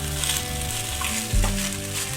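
Cumin-flavoured jeera rice with a pinch of sugar is mixed in a hot pan. A brief, steady sizzle carries a low scrape of the spoon partway through.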